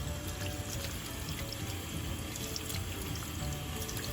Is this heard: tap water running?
yes